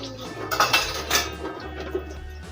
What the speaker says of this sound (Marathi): रात्रीच्या वेळेस भांडी धुवायचं काम चालू आहे आपलं